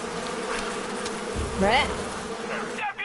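Bees buzz loudly in a video game, a dense insect drone with a rising whine near the middle, close and continuous under a brief spoken word.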